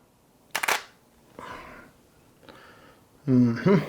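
A sharp mechanical click followed by a couple of softer clicks, close by, then a voice speaking.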